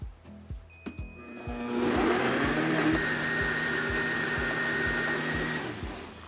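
An electric blender grinds seasoning paste for spicy marinated raw crab, a steady loud whirring motor with high whine running continuously after a brief start, with a few clunks at the beginning.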